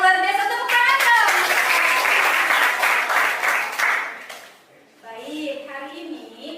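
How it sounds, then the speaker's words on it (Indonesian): A classroom breaks into a burst of lively applause from students that lasts several seconds, then fades as a teacher begins speaking. "Wah, luar biasa, tepuk tangan dong."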